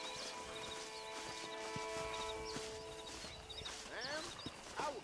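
Horse hooves clip-clop at a walking pace in the Western video game Red Dead Redemption, a faint irregular clatter under a musical drone and bird-like chirps.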